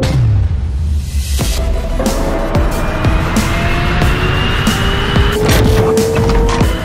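Hyundai N RN22e electric concept car, a 585 PS IONIQ 6-based rolling lab, driving at speed with loud, continuous synthetic-toned whine rising and shifting, plus tire squeal and skidding throughout.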